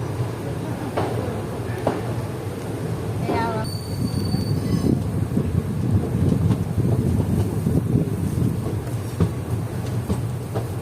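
The Tuticorin–Mettupalayam Express rolls out of Tuticorin with a continuous rumble and rattle of wagons, heard from inside a sleeper coach with wind buffeting and faint voices in the background.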